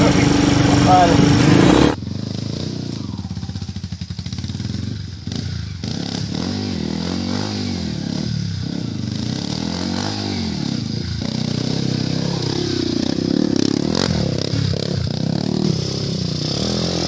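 A motorcycle grinds up a steep uphill dirt trail in San Mateo, its engine droning steadily and rising and falling with the throttle, close and loud, while people speak over it.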